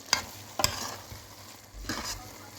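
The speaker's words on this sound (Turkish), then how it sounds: "Son olarak kavurmuş olduğum susamları ekliyorum." Toasted sesame seeds stirred into a börek filling in a pan taken off the stove: two sharp spoon scrapes early, then quieter shuffling and a soft rasping stir near the end, alone and fairly close.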